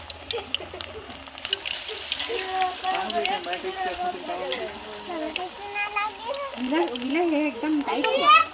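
Flattened, roti-shaped vada dough bubbles and sizzles in hot oil for a village festival meal. The steady frying hiss runs under ongoing conversation, with a voice among the speakers.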